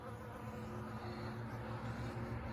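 Honey bees buzz at a water source: a continuous low droning hum with layered tones, fairly close and steady, with no voices.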